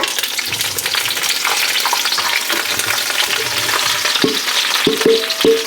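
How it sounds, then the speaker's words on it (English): Onions and peppers frying in lard in a skillet over medium heat, a steady close sizzle with occasional stirring scrapes and a few light knocks toward the end, no talking. "So we're cooking these down in lard."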